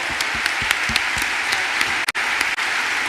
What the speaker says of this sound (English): A round of applause, please, to Magdalena for an amazing interview as well, please.